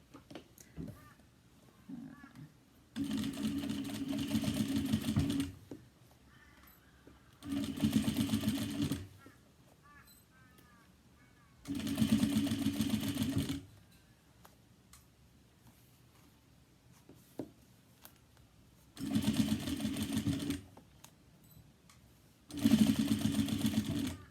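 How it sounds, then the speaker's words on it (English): A sewing machine top stitches a cross-body bag 1/8 inch from the edge, running in five steady mechanical bursts of a few seconds each, with quiet handling noise in the pauses. "it'll be a top stitching from the edge from 1/8 inch."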